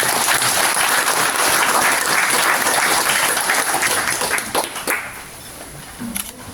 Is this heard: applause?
yes